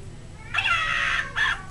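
Two video game cat meows, a long drawn-out one followed by a shorter one, clear and fairly close, with a faint electronic backdrop.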